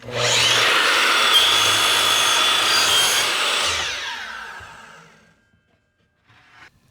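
A power saw cuts a bevel through a wooden fence picket in one steady, loud, close buzzing pass lasting about four seconds, then the blade winds down into near silence.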